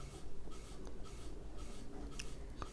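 Pen or chalk writing on paper or board during a math lesson, close and quiet, with short repeated scratching strokes in an irregular rhythm and no speech.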